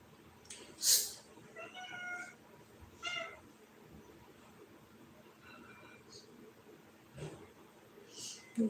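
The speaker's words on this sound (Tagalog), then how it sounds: "Dito na yung pusa sa loob." A cat meows indoors several times, short scattered calls spaced a few seconds apart, fairly faint over a quiet room background.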